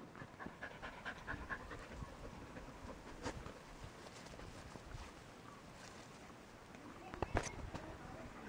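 A wet puppy pants quickly and close by during an outdoor cliff-jumping outing. The breaths are steady and soft over constant wind and water noise, with a sharper noise near the end.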